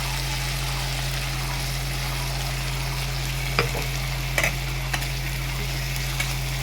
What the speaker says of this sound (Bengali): এখানে এখন পেস্টটা আমি দিয়ে দেবো। পেস্টটা দিয়ে একটু নাড়িয়ে